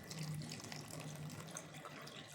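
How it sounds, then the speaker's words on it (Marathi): Cold water pours into raw mango panha in a vessel, a faint, steady trickling stream running evenly for a couple of seconds with no talk. "आणि ह्यामध्ये घालायचं आपलं थंड पाणी."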